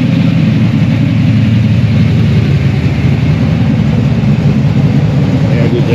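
A car engine idles at an outdoor motor show, a steady loud low rumble that holds even for the whole stretch, with crowd noise and talk mixed in.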